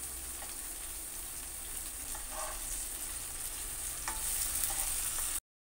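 Masala-coated potato slices frying in a pan as they are laid in and turned over, giving a steady soft sizzle with faint stirring and scraping clicks; fairly quiet, with no speech.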